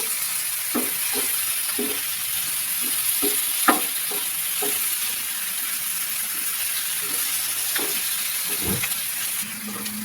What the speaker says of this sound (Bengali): পরিমাণে একটু লবণ দিয়ে দেবো যাতে মশলা দিয়ে নাড়াচাড়া করবো